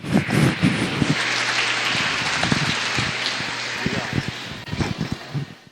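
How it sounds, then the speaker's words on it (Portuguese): A church congregation gives a loud burst of applause during a service, dense clapping at moderate distance that swells, then thins into scattered claps with voices mixed in. "Dê uma forte salva de palmas para Jesus."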